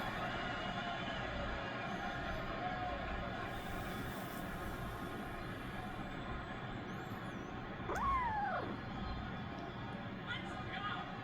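A small office kitten gives a brief, high rising-and-falling squeak in the background midway through, faint and heard over a steady murmur of room noise and a low voice.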